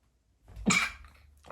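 One short, sharp sneeze bursts out close to the microphone, followed by a quiet breath in a near-silent room.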